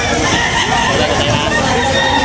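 Chickens and roosters at a rainy outdoor poultry market, with a dense continuous din of clucking and crowing close by and crowd murmur underneath.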